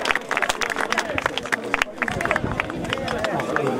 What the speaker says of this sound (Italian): Accogliamola con un applauso che c'è.